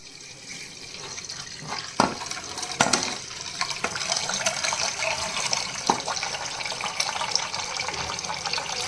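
Water pours steadily into a vessel of twice-washed toor dal and Malabar spinach (bachali kura) set to soak, a continuous splashing rush with a few sharper knocks and no one talking.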